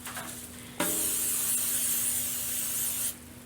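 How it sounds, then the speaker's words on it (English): Nonstick cooking spray hissed onto a half-size pan in one continuous burst lasting over two seconds, a bright close steady spray that starts and stops abruptly, with no talking. "we're gonna put some nonstick spray on there"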